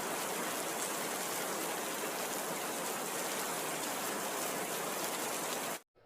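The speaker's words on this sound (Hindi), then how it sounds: "उसी रात काले बादलों के साथ बरसात शुरू हो गई।" Heavy rain pours down in a storm, a dense, even hiss that runs unbroken before cutting off abruptly at the end.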